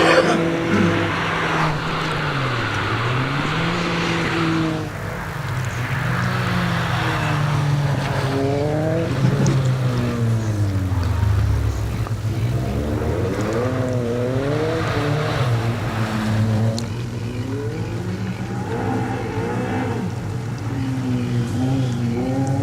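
A Mini racing car's engine at a hillclimb revs hard and continuously, its pitch climbing and dropping repeatedly through gear changes and corners as it echoes across the course.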